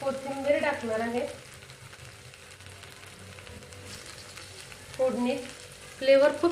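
Coriander dropped into a hot dal tadka tempering, a soft continuous sizzle with intermittent stirring, while a person talks over the start and end.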